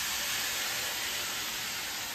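Chopped pineapple salsa ingredients hitting a hot skillet, giving a steady, even hiss of sizzling that runs unbroken and fairly loud throughout.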